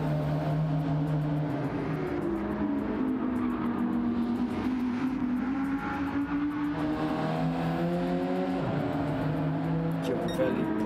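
A 4-cylinder Alfa Romeo race car in a racing video game on Trial Mountain Circuit, its engine droning steadily with rising and shifting tones as it accelerates through gears, a continuous loud whine throughout.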